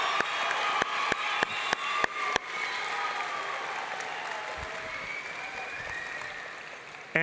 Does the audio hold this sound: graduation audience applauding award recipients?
yes